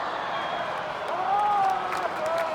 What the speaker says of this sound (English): I was just showing off the crowd making noise and stuff.